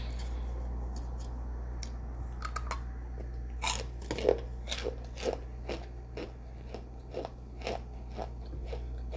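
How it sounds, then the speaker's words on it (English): Crunchy bites into dry cornstarch, a series of sharp crackling crunches spaced about half a second apart, close and fairly loud over a steady low hum, with no talking. "I'm gonna take this big bite on y'all, this crunch."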